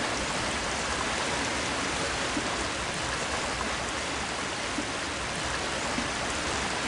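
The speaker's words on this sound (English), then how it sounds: "It's actually a really cool waterfall, in my opinion." Waterfall in the Harry Potter and the Sorcerer's Stone PC game, a steady, dense rushing roar of falling water that holds at an even level throughout with no other sounds over it.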